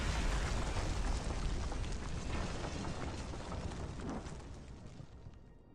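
Cannon fire in the video game Arknights, a sustained rumbling barrage of blasts and crackling debris that slowly thins out, loud and dense with no talk.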